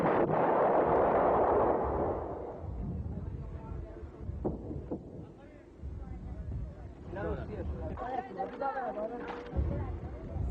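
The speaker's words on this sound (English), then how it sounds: "Iraq's generals resorted to shelling suspected Kurdish positions." Artillery shelling during an Iraqi attack on Kurdish positions: a heavy rumbling blast opens, followed by scattered sharp distant bangs and booms, with someone narrating over the later part.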